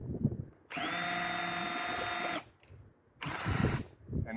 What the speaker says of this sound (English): Make sure you're spinning the drill the right way.